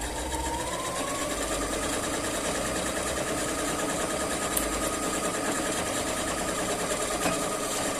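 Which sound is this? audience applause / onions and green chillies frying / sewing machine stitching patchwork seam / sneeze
sewing machine stitching patchwork seam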